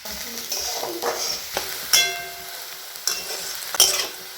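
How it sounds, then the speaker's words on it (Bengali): Onions fry in oil while being stirred, a steady close sizzle broken by scraping strokes and metallic clinks of a spatula against the pan, with some speech in the background. "তার জন্য পেঁয়াজটা ভালো করে ভেজে নেব ব্রাউন করে"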